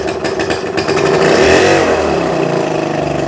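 A small outboard motor on a boat runs loud and close, its buzzing engine note steady with a slight rise in speed partway through.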